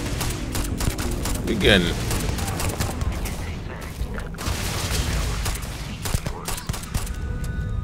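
Dense gunfire in the sci-fi game Starfield, continuous rattling bursts and booms throughout, with someone talking over the shooting.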